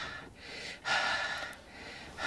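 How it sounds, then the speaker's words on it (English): Heavy, rasping breaths from a person, a couple of loud drawn-out inhales and exhales close up, with no talking over them. "Why are you breathing so heavy?"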